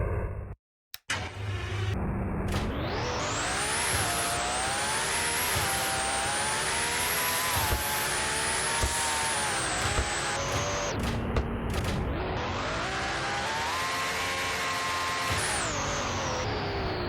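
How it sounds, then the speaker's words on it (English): Engine of a Pagani Huayra R car in the Roblox video game: a loud, sustained high-pitched roar that rises and falls through revs and gear shifts for over fifteen seconds, without speech. "here's the Huayra R sounds, just because this is the only good sounding car here."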